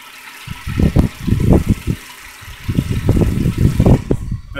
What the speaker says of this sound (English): Sounds great, doesn't it? Starts right up, runs great.